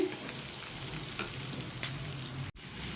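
Turmeric being stirred into a chickpea masala curry in a hot pan, giving a steady close sizzle and frying hiss with a few soft scrapes of stirring throughout.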